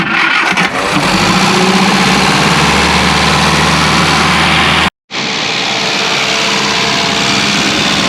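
A classic Mini Clubman Estate cranks and fires up, its engine note rising into a loud, rough running drone that cuts out abruptly for a moment, then resumes steady idling close by.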